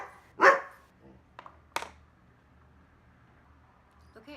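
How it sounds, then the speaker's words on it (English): A pet dog barks at something outside a window, one loud bark followed by two shorter, sharper barks, then a faint yip near the end. The barks come from close by in an otherwise quiet room. "Now he'll just sit and bark at everything at the window."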